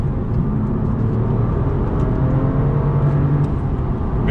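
A 2018 BMW M2 with a turbocharged engine pulls on throttle, giving a steady loud low drone that holds throughout with a slight rise in pitch, close and without talk.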